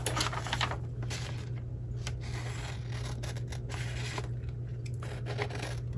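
Scissors cut paper for a junk journal recipe pocket, with soft crisp snipping and rubbing close by over a low steady background hum.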